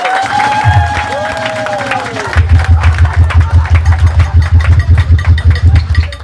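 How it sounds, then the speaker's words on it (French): A crowd at a family dinner cheers and claps. Rising voices come first, then a loud, steady, rhythmic beat of clapping carries on to the end. "Est-ce que nous pouvons acclamer pour le peuple du premier"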